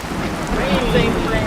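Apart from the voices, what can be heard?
thunder crack and pouring rain sound effect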